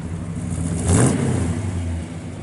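A 1970 Chevrolet Chevelle SS with a 396 engine revs once in a short burst, swelling loud then settling back to a steady idle rumble, close by from the rear.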